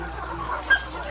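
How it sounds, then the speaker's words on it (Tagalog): Caged chickens on an RTL chicken farm cluck softly amid a busy, murmuring barn ambience, with one brief sharper cluck standing out near the end. "meron sila doong lumang manok"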